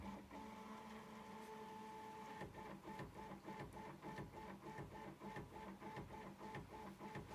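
A Prusa MK4 3D printer runs its self-tests, with a steady motor whine overlaid by rapid rhythmic clicks and stepper chirps, close and fairly quiet with no voices.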